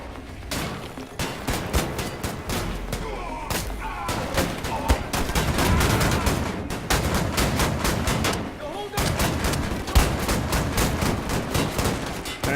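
Shotgun and other gunfire in Wolfenstein The New Order: dense, repeated loud blasts in quick bursts almost throughout, with heavy booming and chaotic battle noise.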